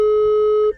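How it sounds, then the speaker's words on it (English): A car's SOS emergency call button, pressed by accident in a rally recce car, gives a loud steady electronic tone that holds for most of a second before cutting off abruptly. "Chenny managed to press the SOS button, the Recce car, by accident."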